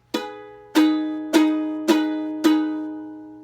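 Five separate ukulele strums with the top string muted by the thumb, each a bright chord ringing out and decaying before the next, evenly spaced, close and clear with no talking.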